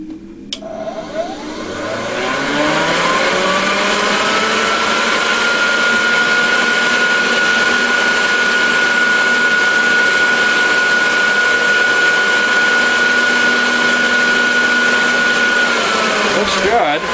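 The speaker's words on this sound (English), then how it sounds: "once the chamber vacuum turns on, well, we can do a little test right here." An electric fluid bed coffee roaster, upgraded from 2 lb to 5 lb capacity, runs its chamber vacuum: a loud, steady whine and blower roar that spins up over the first two seconds, then holds constant.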